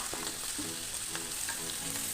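Onions fry in hot oil for egg biryani, a continuous close crackling sizzle with small popping spatters and no talk.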